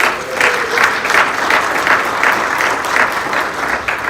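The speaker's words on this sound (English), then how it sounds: "So give yourselves a round of applause." Audience applause fills an NAACP VIP reception in East St. Louis, a steady wash of many hands clapping at moderate loudness, continuous for the whole stretch with a faint voice or tone briefly underneath.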